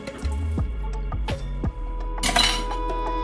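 Ice rattling and clinking in a glass of green tea as it is stirred, a few close, bright clinks and sloshing knocks, then a brief splashy burst, with no talking.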